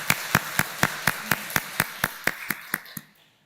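A Korean church congregation at Sunday worship claps a welcome in an even, steady beat of about four claps per second, sharp and moderately loud, stopping abruptly after three seconds.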